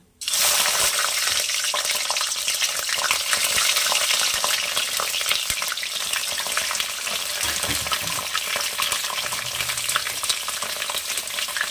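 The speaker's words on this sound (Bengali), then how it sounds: "তেল গরম হয়ে গেছে, এবারে দিয়ে দেবো আমি একটা মাছের মাথা।" Fish head dropped into hot mustard oil sets off an abrupt, loud sizzle that keeps crackling and hissing steadily with no voices.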